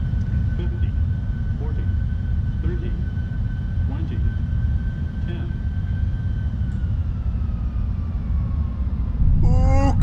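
Boeing 747-400F cargo freighter touching down in a flight simulator, a loud steady roar of engine and wind noise with faint rumble and a burst of louder noise near the end as thrust reverse begins.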